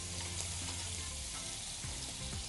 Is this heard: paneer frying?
yes